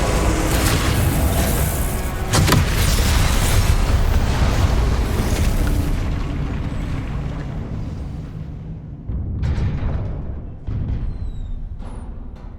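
Spell explosions from Confringo and Incendio in the Hogwarts Legacy video game on PlayStation 5 make loud, rumbling booms, with a sharp blast early on and a long fading roar, then a few more bursts later on.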